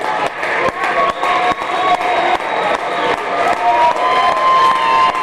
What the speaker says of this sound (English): Some of them are on their feet and clapping here, but some are clapping not on their feet